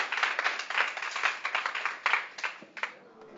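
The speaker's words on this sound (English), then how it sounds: "Please give a warm round of applause." Warm applause from a small open mic audience, a dense patter of clapping hands that swells and then thins out into a few scattered claps near the end.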